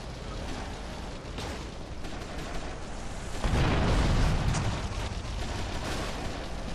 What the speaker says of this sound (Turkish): Patlayan araba hala devam ediyor gelmeye.